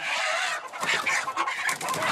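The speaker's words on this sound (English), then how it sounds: "about 250 roosters, hens, and chicks" Roughly 250 roosters, hens and chicks being removed during an animal rescue fill the air with dense, continuous clucking and chirping, many birds close together and loud.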